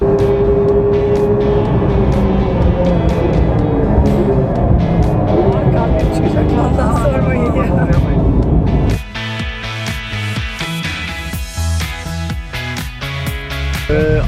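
Porsche 911 Turbo S driven hard on a race track, a loud continuous engine roar with road and wind noise, shifting to a rougher, choppier engine tone partway through, with talk over it.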